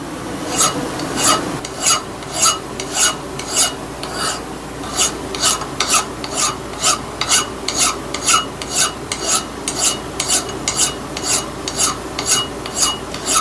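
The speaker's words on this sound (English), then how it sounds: "See if we can start filing this down." A metal file rasps across a vintage axe head in repeated, evenly spaced strokes, each pass a bright scraping burst, close and loud with no talking.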